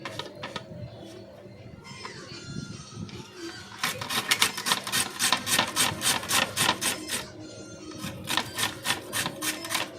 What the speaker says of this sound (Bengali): এগুলো হচ্ছে আলুটাকে ঘষে নিলাম।